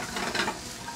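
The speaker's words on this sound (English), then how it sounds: "I have some just diced zucchini and squash. And we're just gonna saute that real quick" Diced zucchini and squash sauté in a pan aboard a fishing boat, giving a brief, steady close sizzle with a slight stirring scrape.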